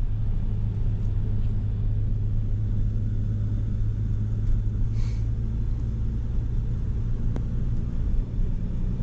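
A 1950 DeSoto Deluxe on a test drive gives a steady, deep engine rumble heard from inside the car, loud and continuous with faint road noise and no talking.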